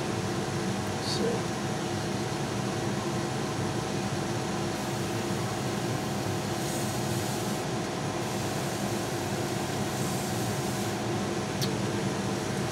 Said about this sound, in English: I'm going to put on the fan so it's going to get a little noisy.